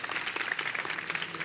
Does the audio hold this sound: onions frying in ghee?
no